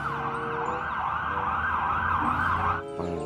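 A yellow toy fire truck sounds its electronic siren, a loud, steady wailing tone that sweeps up and down close to the microphone before cutting off near the end.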